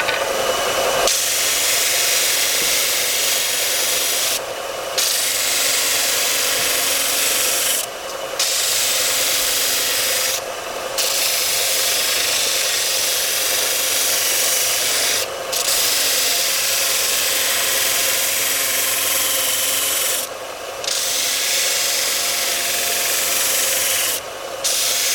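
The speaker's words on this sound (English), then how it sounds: "So it's a very powerful sander." An Einhell TC-US 400 bench sander grinds steadily against a wooden workpiece pushed hard into it, a loud continuous abrasive rasp lasting the whole stretch with brief dips where the pressure eases.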